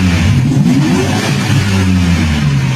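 A motorbike speeds along a road, its engine loud and close, revving up with a rising pitch and then droning steadily as it passes.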